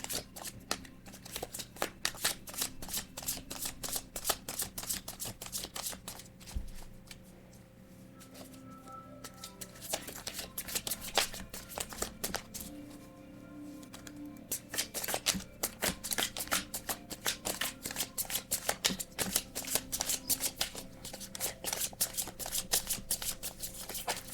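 Tarot cards being shuffled by hand, with a continuous run of crisp, rapid riffling flutters and soft slaps. The sound is close and moderately quiet, continues for over twenty seconds with brief pauses, and has no talk over it.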